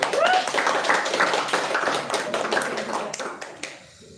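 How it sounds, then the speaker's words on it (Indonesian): Audience clapping after a talk at a film discussion event, a dense patter of many hands fairly close, steady at first and thinning toward the end as the applause dies away. "Terima kasih tepuk tangan."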